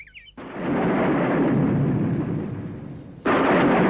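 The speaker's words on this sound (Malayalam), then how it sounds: "ഇത് ഇടിമുഴക്കം തന്നെയാണ് സംശയമേ വേണ്ട" Deep thunder rumbles under a clear sky, a loud sustained roar that swells after a brief silence, eases slightly, then surges again near the end, with no voices over it.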